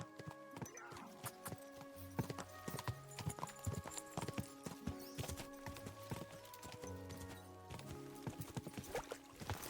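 Horse hooves gallop in a medieval video game, a fast, dense clip-clop rhythm up close. A musical score plays underneath and an occasional whinny cuts through.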